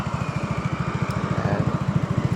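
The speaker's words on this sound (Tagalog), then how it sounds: "Mapakita ko paano i-start yung Simnaga." A SYM Naga 155cc scooter engine runs at idle, a rapid, even putter of low pulses ticking along steadily at close range, with a faint higher whine above it and no talking.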